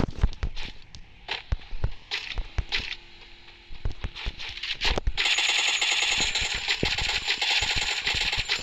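Bursts of rapid automatic gunfire crackle through a battle royale video game match, rising into a dense, continuous exchange of shots mixed with footsteps and game ambience.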